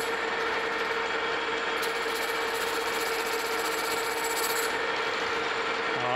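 A lathe takes an interrupted cut on a bronze bushing for a Case steam engine clutch, producing a continuous mechanical whir with a steady tone and a rapid rattling, clattering texture from the tool striking intermittently, close up with no speech.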